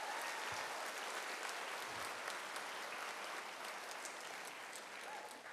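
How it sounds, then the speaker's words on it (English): Broad, sustained applause from a school convocation audience rolls on evenly for several seconds, thick and continuous, easing slightly toward the close. "Please give a round of applause for the PTSA."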